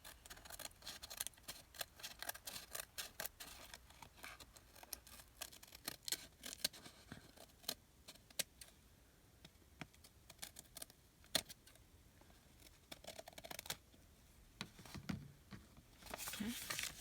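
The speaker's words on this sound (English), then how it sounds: "the top is not quite straight, so let's go ahead and trim that down" Edge of a book page being trimmed while making a Little Golden Book junk journal: a run of quiet, crisp snips and clicks, some spaced and some in quick bursts, heard up close at low volume.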